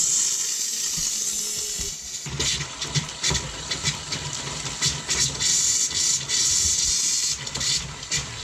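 Compressed air forces water out of plumbing lines during winterizing, producing a harsh, sputtering hiss with bursts of spraying water and irregular gurgling surges close by.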